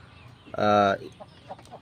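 A single hen on a free-range farm area gives one short, loud harmonic cluck-squawk close by, followed by faint scattered rustles and noises.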